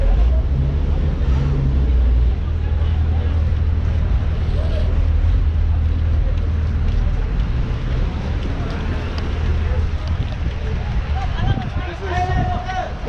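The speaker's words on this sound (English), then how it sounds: "I think it's time for us to board the boat" A tour boat's engine drones steadily close by in Phang Nga Bay, Thailand, mixed with wind buffeting and a busy murmur of voices talking throughout.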